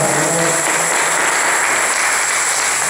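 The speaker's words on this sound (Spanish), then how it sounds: "Den unas palmas al Señor." Church congregation clapping for the Lord during a Spanish-language service, a dense steady wash of applause filling the room without a break.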